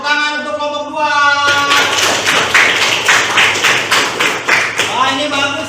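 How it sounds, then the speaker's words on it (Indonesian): Audience in a classroom teaching simulation clapping for group 2, a burst of uneven claps following a spoken announcement, with voices over the start and end. "Tepuk tangan untuk kelompok 2"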